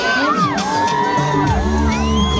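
Crowd whooping, cheering and shouting at a funeral send-off for Brian Chira, a dense continuous roar of many voices with high whistling whoops rising above it.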